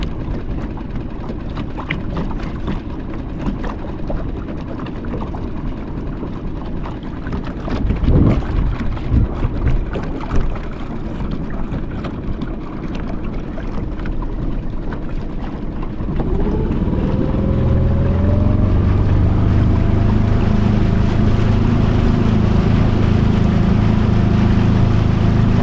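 An outboard motor pushes a tiny plastic Bass Raider 10e boat across water with hidden stumps, wind rushing past at first, then the motor's steady droning hum rises and settles into a loud, even buzz close by.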